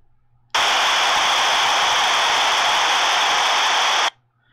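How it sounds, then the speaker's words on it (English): Loud, steady white-noise static pours from a Yaesu FT5D handheld radio monitoring a simplex channel with the volume fully up, switching on abruptly and cutting off after about three and a half seconds. "Just monitor, just white noise on simplex, okay?"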